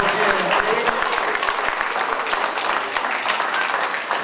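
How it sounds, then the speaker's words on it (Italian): Sustained audience applause fills a bocce tournament venue in Italy, a dense, steady wash of clapping with sharp individual claps standing out throughout. "Facciamo un grande applauso"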